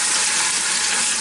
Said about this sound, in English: Now I'm going to put the fat side down first. And you hear that sizzle.